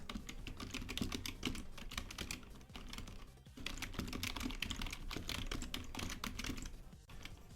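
Fast, steady typing on a computer keyboard, dense clusters of close key clicks running continuously with a brief pause midway.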